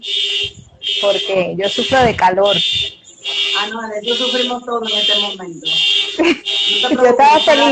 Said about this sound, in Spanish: Perdón el ruido, que hay una alarma por ahí